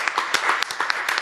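An audience claps at a yoga day event, a dense patter of hands rising and falling briefly, moderately loud and fairly close.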